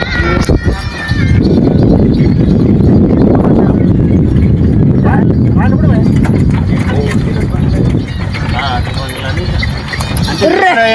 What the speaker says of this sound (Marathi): घोडा सुटलेला एकदम जोरात पळतोय.